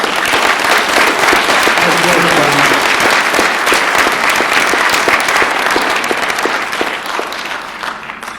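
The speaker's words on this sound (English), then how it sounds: "Please give John Milner and his team a big round of applause." A crowd applauds warmly for a surgeon, John Milner, and his transplant team, a dense, steady wash of clapping that holds strong for about eight seconds before easing slightly, with faint voices mixed in.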